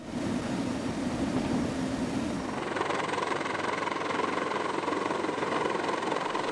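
A heavy-lift military transport helicopter drones steadily with a loud, continuous engine and rotor roar that shifts in tone partway through and stays up close throughout.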